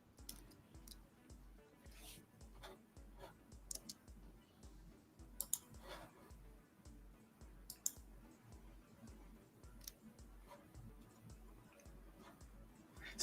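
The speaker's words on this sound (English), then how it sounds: "I think I'm typing too fast for it here" Rapid, quiet clicking of computer keyboard keys typed in a steady stream, with a few sharper taps standing out against faint background noise.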